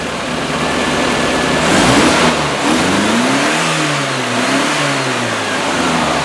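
A car engine with Stromberg carburettors idles close by around 1,000 RPM, then revs sharply as the throttle is snapped and settles back, loud and alone with no talking.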